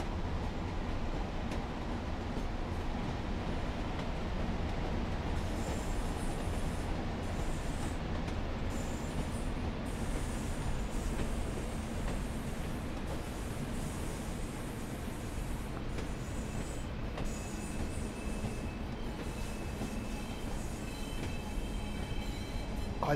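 A Class 142 Pacer train on the Blackpool branches in Train Sim World 4 rumbles steadily along the rails, with faint high wheel squeals and squeaks drifting over the continuous low running noise, no talk.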